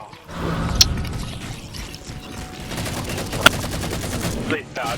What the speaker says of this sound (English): Bloody machine guns like rubbish.